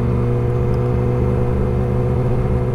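A loud motorcycle engine runs steadily while the rider sits in traffic, giving a continuous low, droning rumble with no change in pitch or rhythm and no talking.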